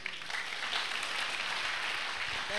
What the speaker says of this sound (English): One more clap.